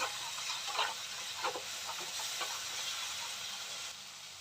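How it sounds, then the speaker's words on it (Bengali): A spice paste with ground cumin fries in a pan for a prawn malai curry, giving a faint, steady sizzling hiss throughout, with a few soft scraping touches early on and no voices. "এবার মশলাটাকে ভালো করে কষিয়ে নেব।"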